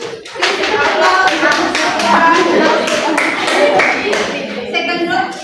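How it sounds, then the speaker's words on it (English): Classroom applause from a group of students, a dense burst of many hands clapping together, loud and close, fading toward the end with a few voices mixed in. "Please applaud."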